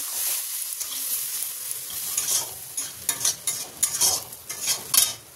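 Semolina cooking in a pan sizzles and hisses as water goes in, followed by a run of sharp scraping strokes from stirring that grow louder and more rhythmic toward the end; no one speaks.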